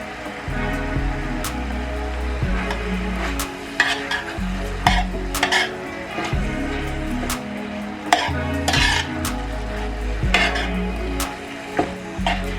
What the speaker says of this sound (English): And you just want to cook these until your onions and your green peppers soften up